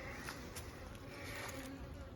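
Honey bees buzz steadily at an open hive in a bee yard during a spring hive evaluation, a dense continuous hum close by with no talk.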